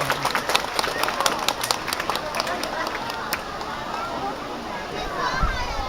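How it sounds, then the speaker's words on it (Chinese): Warm applause for student and teacher representatives at a classics recitation event: a dense burst of clapping at the start that fades into crowd murmur and children's chatter under a host's voice. "我们再一次以热烈的掌声感谢我们的师生代表。"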